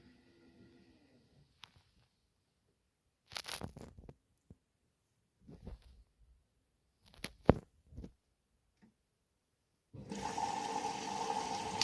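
After scattered clicks and rustles, water starts rushing into a Bosch Serie 4 washing machine washing curtains, a loud constant hiss of filling that continues to the end.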